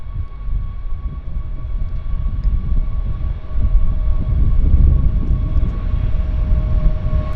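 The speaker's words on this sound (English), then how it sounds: "No delays rolling on the WestJet." A WestJet airliner rolls down the runway at Vancouver International Airport, its engines giving a steady, distant roar that swells slightly midway and holds as a broad rumble with faint tonal whine, with no talking over it.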